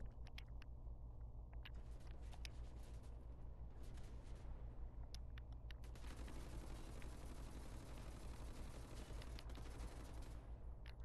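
Assault rifle gunfire in the video game Wolfenstein The New Order, with scattered quiet shots early, then a sustained, rattling automatic burst of several seconds, all fairly faint over a low rumbling hum.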